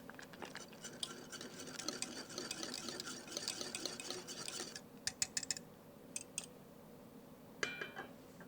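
A spatula stirs thickening polenta in a pot, giving a faint scraping and soft bubbling for several seconds, then a few sharp, quiet taps and clinks of the utensil against the pot.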